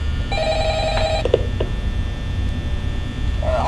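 A telephone rings in Five Nights at Freddy's, a short burst of bright, steady electronic ringing that stops abruptly and leaves a low background hum.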